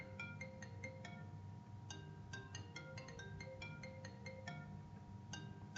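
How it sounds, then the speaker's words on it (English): A phone plays its ringtone at moderate volume, a repeating melody of bright electronic chimes in quick phrases that runs throughout with no voices over it. "Wow, my phone is ruining the video."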